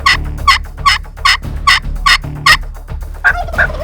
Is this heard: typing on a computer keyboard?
no